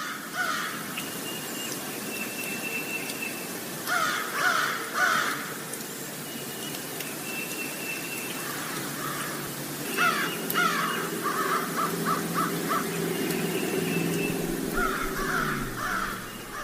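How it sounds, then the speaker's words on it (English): A murder of crows caws outdoors in Bradford, Vermont, in loud clustered bursts of harsh calls that come and go over a steady background, with another small bird also present. "I believe we have a murder of crows here and one other bird."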